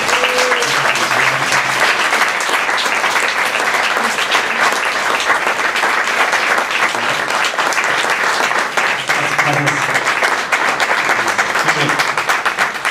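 An audience applauds loudly and steadily for a musician at Mexico's national sound archive, the dense clapping filling the whole stretch with a voice faintly under it.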